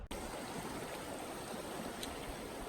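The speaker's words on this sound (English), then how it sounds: "Down here a little further on the Conejos, and the water is just ripping through." Conejos River water rushing hard in a steady, broadband roar, close and continuous with no voices over it.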